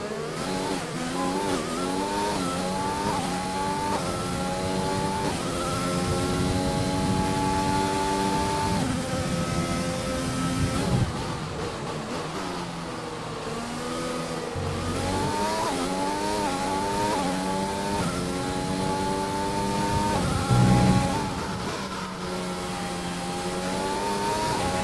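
Formula 1 race car engines from the racing game F1 2020 scream through gear changes as a Williams pulls away from Ferraris, with a loud, sustained high-pitched whine that rises and drops in repeated sweeps.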